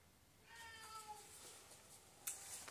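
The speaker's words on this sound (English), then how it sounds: "That's my cat." A domestic cat meows a few times in a quiet room, short tonal cries that are faint and close by, followed near the end by a brief louder knock.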